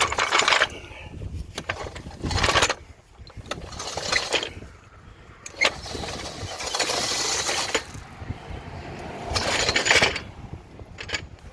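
A ratchet works on bolts under a car hauler's bent axle, producing bursts of rapid metallic clicking and clanking that come and go with pauses, close and fairly loud, with faint background noise between.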